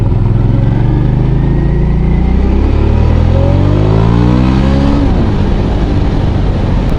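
A Hyosung GV650 motorcycle engine, running on freshly changed oil, revs close by and loud, its pitch climbing and falling through several throttle blips over a constant rumbling idle.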